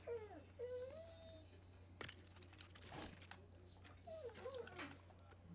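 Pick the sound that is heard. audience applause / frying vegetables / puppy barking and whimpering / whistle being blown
puppy barking and whimpering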